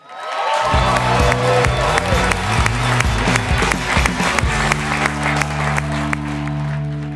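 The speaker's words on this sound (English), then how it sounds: "Make some noise for Josh Fadem" A crowd bursts into loud, sustained applause and cheering, clapping steadily throughout with a low musical hum underneath.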